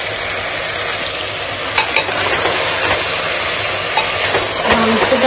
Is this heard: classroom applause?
no